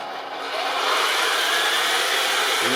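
A Heng Long T-34/85 RC tank driving on smooth concrete, with a steady, whirring hum of the electric gearbox running flat out, close and continuous with no talking.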